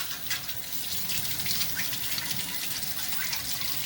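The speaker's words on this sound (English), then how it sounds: "let the water flow through it, go from this end" Water from a tap runs steadily through the spout of a Wagner Flexio paint sprayer during cleaning, a continuous close gushing splash with no pauses.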